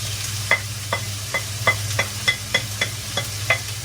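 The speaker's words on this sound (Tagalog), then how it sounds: "Tapos, lunan natin yung sibuyas." Onion sautéing in a pan is heard as rhythmic spoon taps and scrapes against the pan, about ten evenly spaced knocks over a low steady hum and faint sizzle, close by with no voices.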